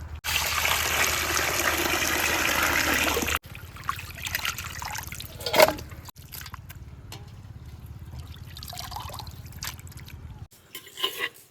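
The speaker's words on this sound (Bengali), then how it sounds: "নদীর জলটা কিন্তু পরিষ্কার জল এই বালতিতে করে জল তুলে মাংসটা ধুয়ে নেবো" Water from the Ajay river is drawn into a bucket for washing duck meat at an outdoor riverside picnic: a few seconds of loud rushing pour, then quieter trickles and splashes.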